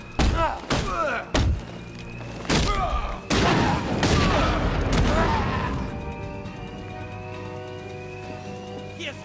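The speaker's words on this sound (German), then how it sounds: "jetzt werde ich auch noch angeschossen" Gunfire aimed at Batman in the video game Batman: Arkham Knight, a series of loud sharp bursts and heavy thuds in quick clusters, fading into rumbling ambience with a high whine.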